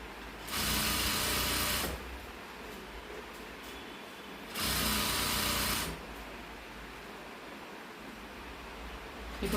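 A sewing machine stitches the folded hem of a fabric gift bag in two loud, steady bursts of about one and a half seconds each, separated by quieter room hum, close by and without talk.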